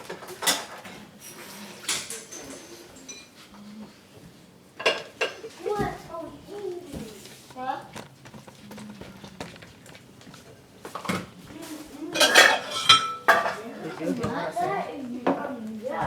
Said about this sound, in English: You want to show us how you do your dishes?